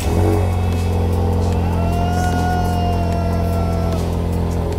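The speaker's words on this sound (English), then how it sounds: "Rev it." Engine of a blue Ford Mustang revving steadily and loudly, a sustained low rumble with rising whine holding for several seconds at close range.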